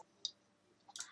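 Faint computer mouse clicks on a PC during a game install, two soft separate clicks against a quiet background hum.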